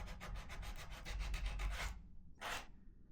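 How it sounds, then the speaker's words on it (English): Hand sanding a wooden gift piece with sandpaper, rapid rhythmic back-and-forth strokes close by for about two seconds, then a pause and one more short stroke. "Now I just need to hand sand it down again."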